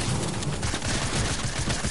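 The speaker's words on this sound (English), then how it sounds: "Oh, Bush Ranger's actually shooting me." Dense, continuous gunfire from a video-game shootout, rapid overlapping shots and bursts filling the whole stretch at steady loudness with no talk.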